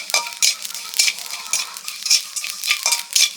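Quick, rhythmic scraping of a spatula stirring food in a sizzling wok, repeated strokes close up and loud with frying hiss between them and no voices.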